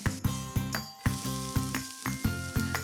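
Chopped mixed vegetables hit hot oil with browned onion in a pan, sizzling steadily while a utensil clinks and scrapes against the pan in a regular rhythm, close and clear with no talking.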